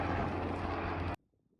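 A loud, steady aircraft roar right beside the runway at East Midlands Airport, which cuts off abruptly into near silence.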